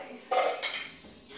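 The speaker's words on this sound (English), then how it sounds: "And let me grab that pan too." Metal pizza pan picked up and handled in a kitchen, a brief close scraping clatter followed by a softer metallic rattle.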